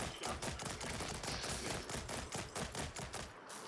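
An Ash pistol fires in a continuous rapid burst, several shots per second blurring into a dense, loud crackle that holds for the whole stretch and cuts off abruptly at the end.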